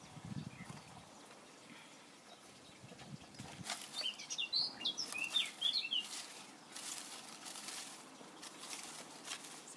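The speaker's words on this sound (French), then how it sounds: "le petit oiseau qui chante" A small bird chirps softly in short, scattered bursts near a little fountain, its faint high calls rising over a steady background wash of splashing water.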